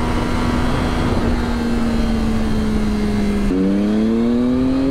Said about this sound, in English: You can now rip it a bit. But you hear the inline 3 motor.